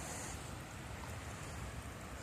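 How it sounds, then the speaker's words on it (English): Ocean water surges back and forth through the tide pools at Sunset Bay, Oregon, a steady broadband wash of surf and rushing water at moderate level with no voices. "The water's going back and forth here between tides, I'm guessing."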